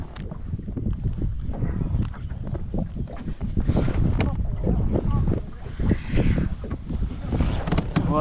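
Wind gusts buffet the microphone outdoors during a fishing trip on a cloudy day, a loud, rumbling, uneven roar that rises and falls across the whole stretch.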